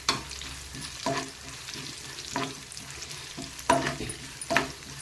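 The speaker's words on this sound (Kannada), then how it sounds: "ಸ್ವಲ್ಪ ಎಣ್ಣೆಯಲ್ಲಿ ಚೆನ್ನಾಗಿ ಫ್ರೈ ಆಗಲಿ" Curry leaves fry in a little oil in a pan for a spicy coastal biscuit roti, with a steady soft sizzle and sharp intermittent scrapes of stirring at close range, without any talk.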